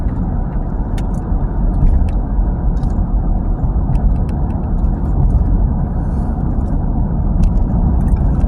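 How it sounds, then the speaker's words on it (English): A bus passes along a street at seven in the morning, a loud, steady low engine rumble and road roar that holds without a break from start to end. "Hopefully, that's the only bus we get today"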